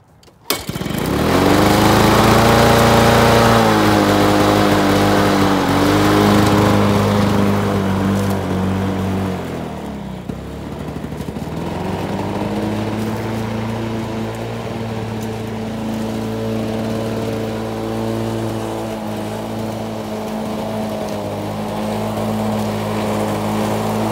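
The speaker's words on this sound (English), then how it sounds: "let's mow this section of the yard here" Lawn-Boy Gold Series 10515 push mower cutting a section of yard grass, its small engine droning loud and steady with a brief dip in load partway through before settling back into an even hum.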